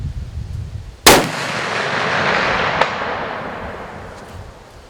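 A single sharp rifle shot cracks out loud and close, fired at a steel target 444 yards away, followed by a long decaying echo and a faint distant ping of the bullet striking steel about two seconds later.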